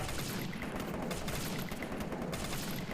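Dense, continuous gunfire from shooting at bots in a solo video game match, a steady rapid barrage of overlapping shots with no pauses, loud and close throughout.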